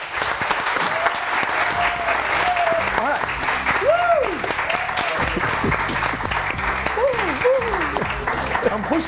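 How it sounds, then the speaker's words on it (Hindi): A studio audience on a morning TV show gives loud, sustained applause for the production team, with thick continuous clapping throughout and a few voices talking over it. "तो इन सब लोगों की मेहनत के लिए बहुत सारी तालियां।"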